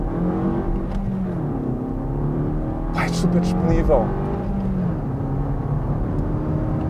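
A Suzuki Swift Sport Hybrid accelerates hard from a standstill, its engine droning and climbing in pitch under someone speaking, with a brief shift mid-run before the note rises again.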